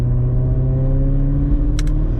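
Straight-piped BMW F90 M5 driving under turbo boost, a deep steady engine drone with strong low harmonics, heard from inside the car, with a brief pair of sharp high chirps near the end.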